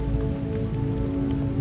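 Steady rain falls on a muddy mountain road in the northern areas of Pakistan near Lalazar, a continuous close patter with a low hum beneath and no voices.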